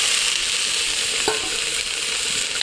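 Small cut mangoes in a wok sizzle loudly and steadily throughout, with one brief stir or scrape partway through and no voices.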